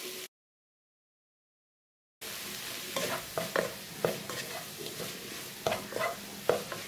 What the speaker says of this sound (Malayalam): നന്നായിട്ടൊന്ന് വഴറ്റി കൊടുക്കണം